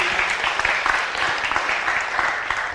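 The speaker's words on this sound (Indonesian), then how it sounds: "Tepuk tangan dulu." Steady applause from an audience at a meditation talk, a dense clapping wash that holds at an even level throughout.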